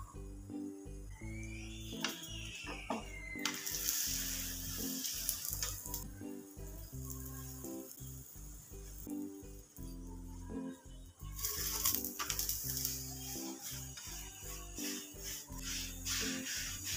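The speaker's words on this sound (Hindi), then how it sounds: "रोटियों पर घी लगाकर इसे अच्छे से शेक लेंगे" Roti brushed with ghee sizzles on a hot tawa over a stove, bursts of frying hiss rising and fading over steady background music.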